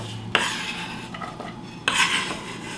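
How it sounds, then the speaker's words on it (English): An onion being chopped on a board for a golabki meat mixture, with two sharp, scraping knife strokes and rough rasping between them, close and clear with no talk. "I'm chopping up the onion, preparing to add it to our meat mixture."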